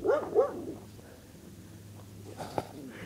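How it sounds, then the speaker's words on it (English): Puppies give a few close, yipping barks at the start, then a quiet stretch and one more sharp short yelp near the end, faint outdoor background beneath. "And oh, look, there's puppies."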